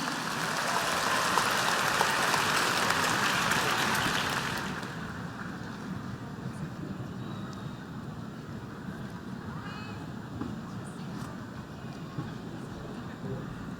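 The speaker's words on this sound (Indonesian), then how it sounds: "Mari kita berikan tepuk tangan sekali lagi yang paling meriah" Applause from a large audience at a political declaration event in an arena, loud and dense for about four seconds, then fading into a quieter crowd murmur and room noise.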